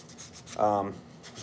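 Sandpaper rubbing over a wooden slingshot to take off super glue, a few short, soft rasping strokes close by, with a brief voice in the middle.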